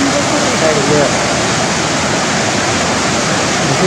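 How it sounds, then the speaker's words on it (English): The Kali river flowing, a loud, steady broadband rush of moving water that fills the scene evenly without pause, with faint bird calls barely showing through. "This is the nice Kali river. You can see the water."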